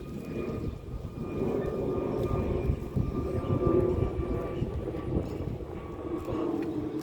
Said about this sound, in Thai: มีเครื่องบินขึ้นจากชวนภูมิ